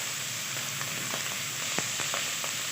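Onion, carrot and celery sautéing in a pot for homemade chicken stock, a steady soft sizzle with a few faint scrapes and taps, nearby and alone, with no talking.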